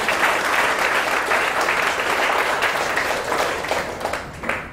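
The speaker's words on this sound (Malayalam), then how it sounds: "നമുക്ക് എല്ലാവർക്കും വേണ്ടി പരസ്പരം ഒന്ന് കൈയടിച്ച് പ്രോത്സാഹിപ്പിക്കും" A congregation at a charismatic prayer meeting in Fujairah claps together in sustained, dense applause that holds steady and begins to thin out toward the end.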